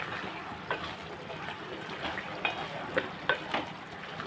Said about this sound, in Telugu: ఒకసారి కలుపుతున్నాను